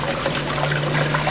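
Water runs continuously over a Gold Genie miner's spiral wheel, a steady broadband trickle and splash close by with a constant motor hum beneath it and no talking.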